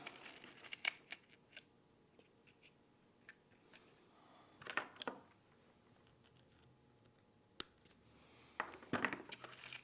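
Pins and springs click into a CompX cam lock during rekeying: a few sharp, small metallic clicks and light scratchy handling noises, close and faint, spaced out with quiet gaps and no talking.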